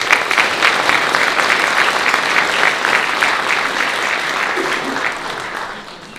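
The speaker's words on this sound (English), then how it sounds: "I think we should give that a special round of applause." Sustained applause from an audience at the Capital Link Hellenic Leadership Award ceremony, a steady dense clapping that fades slightly toward the end.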